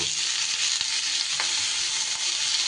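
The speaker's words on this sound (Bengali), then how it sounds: "পেঁপেটা কিন্তু একটু কাঁচা গন্ধটা যাতে চলে যায় একটু নাড়াচাড়া করে নেব অল্প সময়ের জন্য।" Cut raw papaya being stir-fried in hot oil in a pan, a steady bright sizzle with a few soft scraping stirs breaking through, close and continuous with no talk.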